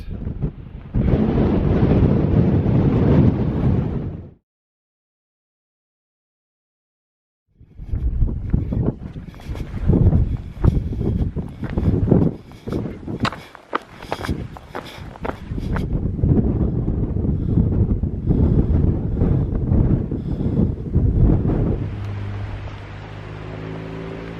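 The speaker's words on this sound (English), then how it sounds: "It's so windy." Strong wind on an exposed moorland ridge buffets the microphone in loud roaring bursts, cutting out briefly to silence, then gusting again with rattling flutters.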